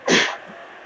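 A single sharp sneeze from someone near a Blood Bowl tabletop game, a loud burst that fades within half a second into quiet room tone.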